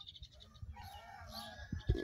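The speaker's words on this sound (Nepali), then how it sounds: "माउले चाहिँ बिचारा चल्ला खोजिरहेछ।" A mother hen clucks faintly in a Bhutanese refugee camp in Pathari, searching for her chick. A few soft, scattered calls are heard over quiet surroundings, ending in a couple of louder bumps.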